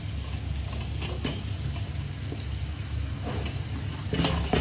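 Pancetta and zucchini flowers frying in a pan give a steady, fairly loud crackling sizzle throughout, with occasional stirring clicks and a brief louder burst near the end; no voices.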